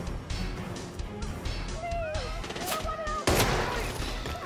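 Gunfire in Hitman VR set in Marrakesh: a rapid string of close, sharp shots in quick succession, mixed with game sound effects and a voice.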